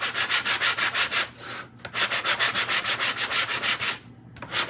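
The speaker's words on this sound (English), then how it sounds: "grab my sanding block, and I'm just going to go and I'm going to sand the edges" Rapid, rhythmic back-and-forth rasps of a sanding block against wooden edges up close, in two steady bursts separated by brief pauses.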